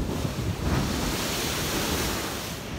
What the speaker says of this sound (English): And I think the waves are breaking today.